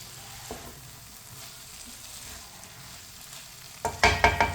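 Masala bhindi, okra cooked with tomato, sits quietly in a pan until a spoon stirs it near the end, bringing loud close scrapes and a sizzle.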